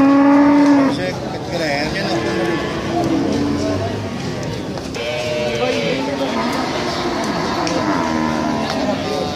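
Cattle low and moo repeatedly in a busy livestock setting, deep drawn-out calls overlapping with people talking nearby.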